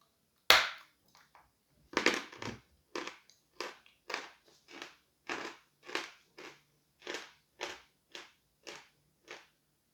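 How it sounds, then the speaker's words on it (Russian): Someone bites a piece of vanilla chalk over and over: one sharp crunch, then a steady run of about fifteen crisp, close bites, evenly spaced and heard alone. "Откусывается данный сорт средне."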